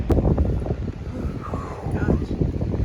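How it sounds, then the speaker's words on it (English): Strong wind gusts outdoors above the Kern River and buffets the microphone with a steady, loud roar that rises and falls over the whole stretch. "I'm in disbelief at how windy it is out here."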